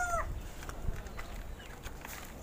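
Farm chickens cluck in short scattered bursts, with a brief higher call at the start, heard fairly close against a quiet outdoor background.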